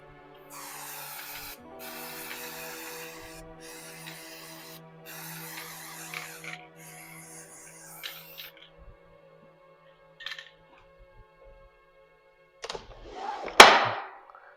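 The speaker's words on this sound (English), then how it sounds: "I'm going to spray it down one time because it's got that charcoal on there." Several short bursts of aerosol clear finish hissing from a can onto a charcoal-marked painting, each a second or two long with brief pauses, followed by clunks and a loud knock near the end.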